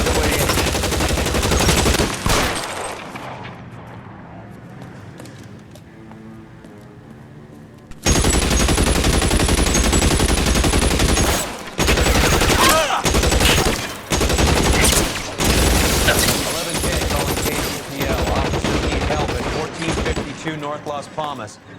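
Rapid bursts of gunfire and machine-gun fire in the L.A. Noire police game during a shots-fired call at 1452 North Las Palmas. A loud opening burst gives way to a quieter stretch, then dense, sustained volleys return with short gaps between them.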